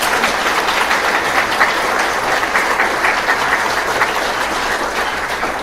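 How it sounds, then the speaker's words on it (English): Loud, sustained applause from an audience at a public forum on climate justice and Indigenous allyship, a thick even wash of many hands clapping together with no talk over it. "we should clap for them regardless"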